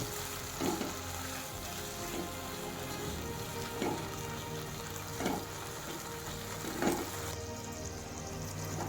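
Spice paste for a rohu fish curry with cauliflower and potato fries in a pan with a soft, steady crackling hiss. Muffled stirring scrapes recur every second or so.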